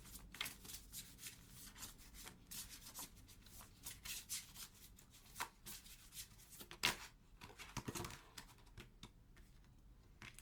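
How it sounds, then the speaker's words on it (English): Dense, rapid papery clicks and riffles of tarot cards being shuffled close by, continuing steadily with a sharper flurry partway through, no talking. "And I'm shuffling."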